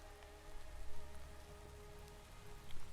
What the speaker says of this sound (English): rain really makes it hard to see.